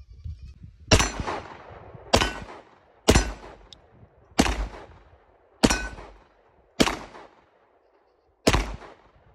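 Seven sharp, loud pistol shots from a Tisas 1911 chambered in 9mm, fed from Mec-Gar magazines, fired outdoors at a steady pace about one second apart, each crack ringing and decaying, with no talk.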